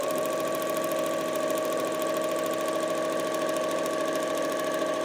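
A sewing machine stitches a Churn Dash quilt block, running as a steady, even mechanical whir with a fast rhythmic clatter throughout, close and uninterrupted.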